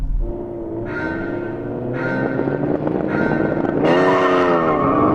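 Several legendary sports cars, among them a Honda NSX, a Supra, an RX-7 FD and a Skyline R34 GT-R, launch from the line together. Loud, close engines scream and rise in pitch through the gears.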